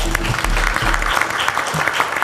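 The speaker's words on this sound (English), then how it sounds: "Give them another applause." Audience applause at the North Sea Summit energy conference, a brisk mass of clapping hands with a low rumble beneath, steady throughout and fairly close.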